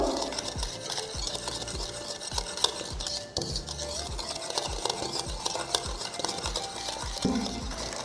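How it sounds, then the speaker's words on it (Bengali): Sponge cake batter and sugar whisked vigorously by hand in a bowl, a quick steady rhythm of scraping, clicking strokes repeating close up for several seconds, with a brief pause midway and no talking. "চিনিটা দেওয়ার পরও এইভাবে ঠিক বিট করেই যাব।"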